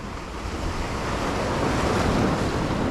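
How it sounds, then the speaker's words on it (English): Ocean surf breaks and washes steadily along a shoreline while someone fishes with a medium-light rod, a broad rushing roar that swells slightly midway, with wind buffeting the microphone throughout. "Let these waves kind of do its thing."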